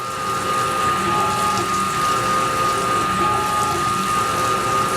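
Coolant gushes and splashes over a part being threaded on a Tormach CNC lathe, a steady loud watery rush with a pump-like drone running the whole time.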